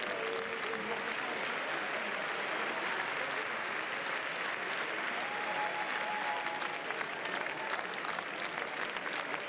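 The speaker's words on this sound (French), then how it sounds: "après de longs applaudissements très nourris à l'intérieur de la salle" A packed cinema hall rings with long, sustained applause, a thick, unbroken clapping that holds steady for nearly ten seconds, with faint voices and an occasional whistle-like tone in the mix.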